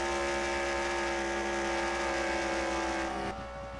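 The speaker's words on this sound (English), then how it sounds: "We can hear the engine." A race car engine in a sim racing game holds a steady droning note with strong harmonics, then cuts out abruptly near the end, leaving a quieter rumble.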